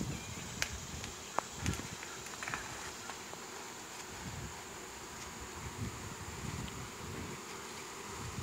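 A honey bee swarm buzzes outdoors in a dense, continuous drone, fairly faint and steady, with occasional clicks and light rustling mixed in.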